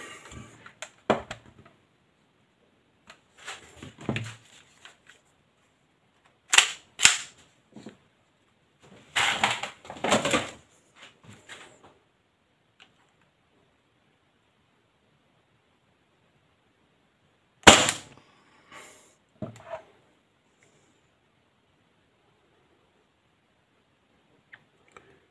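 An AAP01 airsoft carbine fires 0.32 gram BBs, giving sharp, dry clicking shots in irregular single and paired bursts separated by long quiet gaps.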